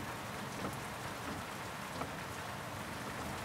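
Steady, dense rain falls outdoors on a city night, a constant hiss with scattered nearer drops striking surfaces and no voices.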